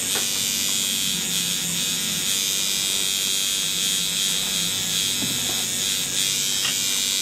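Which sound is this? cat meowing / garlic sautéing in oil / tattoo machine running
tattoo machine running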